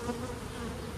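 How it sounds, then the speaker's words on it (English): Honey bees fill a hive's honey super with a close, steady, even hum that holds at one level for a second. "We've got a lot more bees in the honey super than we had yesterday."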